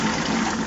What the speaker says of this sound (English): Just got to keep flushing it.